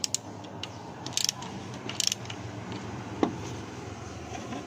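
A 12mm socket wrench ratchets in short bursts of quick clicks on an Isuzu D-Max 2021 during maintenance. A few separate clusters of clicking sound close by, with a low mechanical background between them.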